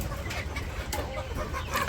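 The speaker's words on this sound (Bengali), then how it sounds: "ভিতরে মুরগি ঢুকছে কয়েকটা ওগুলো বের করে দাও" Chickens cluck close by in a village yard, a continuous loud mix of calls.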